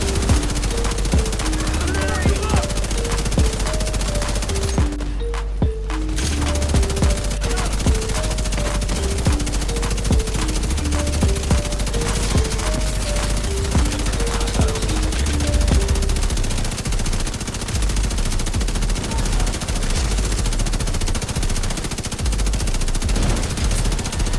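Sustained automatic gunfire from a machine gun and assault turret in The Division 2 shooter game, with rapid continuous bursts running nearly throughout under steady game effects and music.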